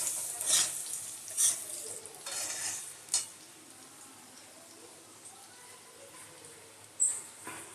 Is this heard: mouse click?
no